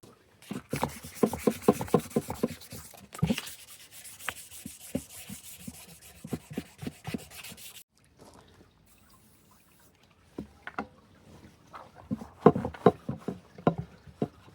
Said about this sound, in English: what I'm going to do now is give it another little sand